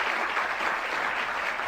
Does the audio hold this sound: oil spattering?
no